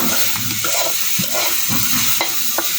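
Coriander leaves lightly frying in a pan for a mash, a constant close sizzle with repeated scraping stirs of a utensil at an irregular rhythm.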